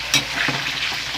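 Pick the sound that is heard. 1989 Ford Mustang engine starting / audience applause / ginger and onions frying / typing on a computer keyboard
ginger and onions frying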